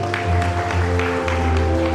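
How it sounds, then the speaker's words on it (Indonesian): Applause from a church congregation at a revival service in Ketapang, a steady, dense wash of clapping that fills the whole moment over a held low musical drone. "Tepuk tangan buat Tuhan Yesus."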